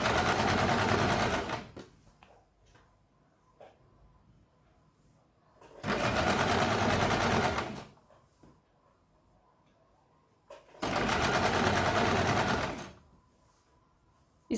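A sewing machine runs in three steady bursts, stitching over a small fold on a katori blouse, with quiet pauses between each loud run.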